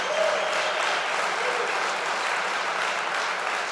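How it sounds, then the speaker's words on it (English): A crowd at a political rally in Iowa claps steadily, a dense even spread of applause that holds without a break and with no talk over it. "you should applaud that"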